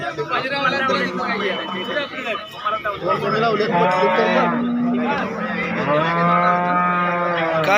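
A cow at the Sangola cattle market gives several drawn-out, harmonic moos, near and loud, with livestock and market chatter around it.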